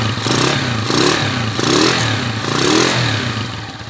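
Honda TMX155 motorcycle, nineteen years old and leaking at the block gasket, idles and revs close by, the engine note swelling in pulses with a faint mechanical clatter from a worn timing gear.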